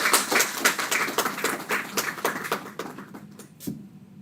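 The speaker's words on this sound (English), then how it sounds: "please, a round of applause for" Conference audience clapping in a dense, sustained burst of applause that thins toward the end, with a few scattered claps lingering.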